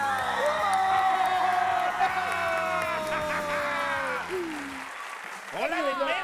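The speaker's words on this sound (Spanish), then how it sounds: "Un fuerte aplauso para Pichas y Cachas." Studio audience applause for the comic duo Pichas y Cachas on a television talk show, steady clapping under loud background music, fading after about four seconds as voices begin.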